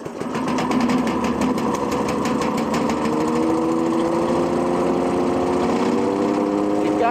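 The engine of a BT-4000 grass chopper machine runs loud and close, a steady buzzing small-engine drone that gradually rises in pitch as it revs, with no pauses.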